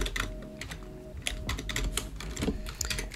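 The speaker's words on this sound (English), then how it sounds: "PyAutoGUI, we're going to press the Windows button." Rapid computer keyboard key presses clatter steadily and close up, with a faint tone in the background and no voice.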